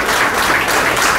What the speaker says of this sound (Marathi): एकदा जोरदार टाळ्या त्यांच्याकरता पण